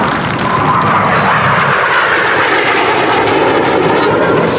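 Red Arrows synchro pair jets roar past at the Duxford airshow, loud and close with a broad, sustained jet rush that holds throughout.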